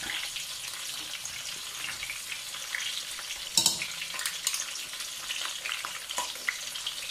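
Sliced onions sizzle and fry with chicken pieces in a pan, a steady hiss with occasional stirring clatters and a louder burst midway, fairly close and continuous without talk.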